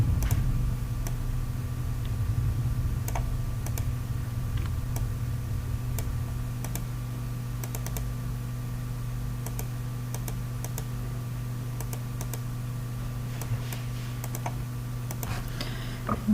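A computer mouse gives sparse, sharp clicks, scattered irregularly over a constant low electrical hum, close and fairly quiet.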